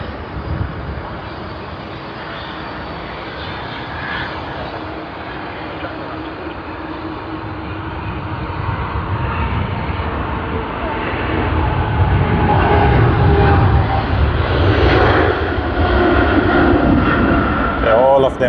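A Cathay Pacific Airbus A350-900 begins its takeoff roll at Sydney Airport, a low rumbling engine roar building steadily louder from a distance over the run.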